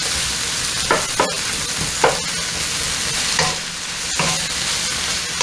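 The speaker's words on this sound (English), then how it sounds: "I'm going to saute this for a little bit." Peppers and onions for kung pao chicken sizzle loudly in a hot pan, a dense continuous frying hiss broken by several sharp stirring scrapes and clinks of a utensil against the pan.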